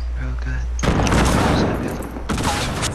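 Video game gunfire bursts in loud and close after a short tonal game sound, a dense crackling fusillade of shots that briefly drops before another burst.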